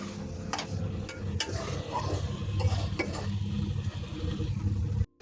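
Prawns sauté in a hot pan while a spatula stirs and scrapes them steadily, with a soft sizzle and occasional metallic clicks, close and continuous until it stops abruptly near the end.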